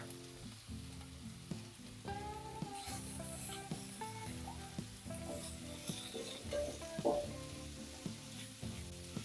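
Carrots and green beans are stirred in a frying pan for a vegetable semiya upma, with a steady sizzle and scraping stirs running throughout, fairly close and moderately loud.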